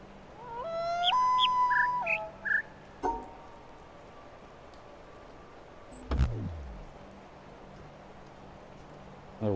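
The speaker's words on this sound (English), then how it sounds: "Oh, there's that longer bird call that maybe it could be referring to" A longer bird call in The Witness, a clear whistled chirping phrase of rising and stepped tones lasting about two seconds, followed by a few short knocks and a thump in a quiet ambience.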